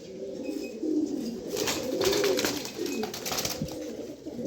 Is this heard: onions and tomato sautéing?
no